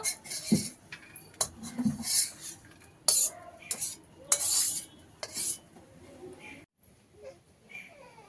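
Fried bitter gourd being lifted off a pan over a smoky wood fire, with several close metal scrapes and clinks of a spatula against the pan and a faint sizzle, separated by short pauses.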